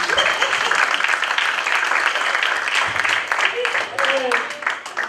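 Audience applause at a literature festival panel about books, a steady, dense burst of clapping from a crowd that holds loud throughout, with a voice speaking over it.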